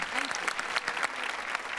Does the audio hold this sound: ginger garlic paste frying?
no